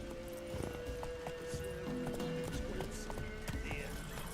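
Roach, a horse in The Witcher 3 video game, clip-clops along in a quick series of hoof strikes, with game voices and ambient sound running underneath.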